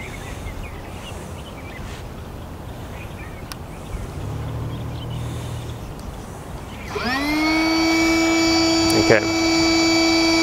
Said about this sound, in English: the pump is using a high pressure, a high volume inflating pump, which will inflate the board fairly quickly